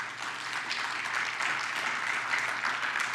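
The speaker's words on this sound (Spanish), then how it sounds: "Dele un aplauso al Señor" Church congregation applauding during a Spanish-language sermon, a steady, dense wash of clapping from many hands heard throughout at moderate level with no break.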